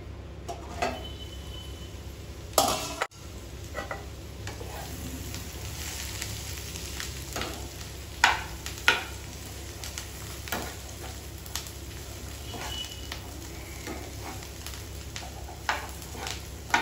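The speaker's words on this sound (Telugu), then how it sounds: "ఫ్రై చేసుకుంటున్నాం కదా, ఇదంతా వేపుడులాగా చేసుకుంటున్నాం కదా" Beetroot and chana dal fry in a pan with a steady, close sizzle, broken by occasional sharper pops and stirring scrapes throughout.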